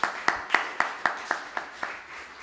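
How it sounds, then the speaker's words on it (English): A conference audience claps for the session speakers: a short, sparse round of separate hand claps with a fairly regular rhythm, fading after about two seconds. "let's give them one more round of applause"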